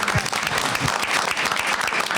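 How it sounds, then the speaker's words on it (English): Audience applause at a public safety and violence prevention crime summit, a steady dense clapping from a crowd, fairly loud and continuous for a couple of seconds. "So working with Ms. Griggs, I think we should give her a big round of applause."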